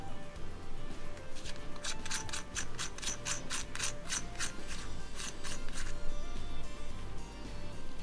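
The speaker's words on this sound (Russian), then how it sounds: "Щелчки четкие, внятные." Crisp, distinct clicks from the adjustment turret of an ASG Strike 4x32 riflescope with an anodized aluminium 1-inch tube, about a dozen in an even rapid series over steady low background hum, with no talk.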